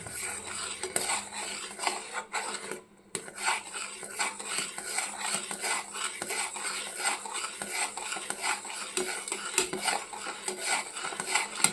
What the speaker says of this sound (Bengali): আমি কিন্তু একবারে দিচ্ছি না অল্প করে দিচ্ছি আর নাড়াতে থাকছি